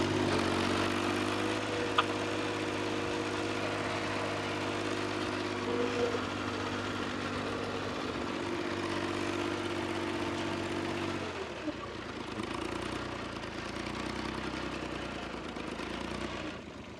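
A farm tractor pulling a loaded trolley runs steadily at close range, a continuous low engine drone with harmonic hum that shifts and lightens near the end.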